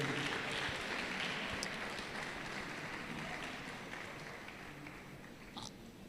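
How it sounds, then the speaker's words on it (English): Applause from an audience at a tech event, a steady broadband patter that stays fairly even and fades slightly toward the end, with no clear voices over it. "Can you give her a round of applause again?"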